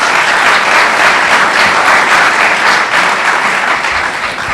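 Loud, sustained applause from an audience at a League of Women Voters state senate candidate debate, dense clapping that holds steady and tapers slightly at the end.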